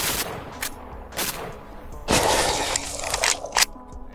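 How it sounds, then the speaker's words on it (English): A .50 Beowulf rifle fitted with an FRT-15 forced reset trigger firing rapidly outdoors, with several loud, sharp shots at uneven intervals and echoing reports between them. "That's 11 rounds of 50 Beowulf. See how many we can crank through, and I'll try to control the recoil this time."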